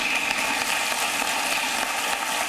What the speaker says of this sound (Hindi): एक बार जोरदार तालियों से उन्हें आमंत्रित करें।